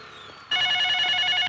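A telephone bell rings in one loud, continuous electronic burst of about a second after a quieter lead-in, close by and with no voices.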